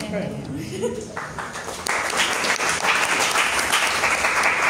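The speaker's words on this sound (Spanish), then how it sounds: "Entonces, aplaudo." Students in an anesthesiology class clap briefly after a presentation, a dense patter that starts under people talking and grows louder and fuller partway through, with voices still mixed in.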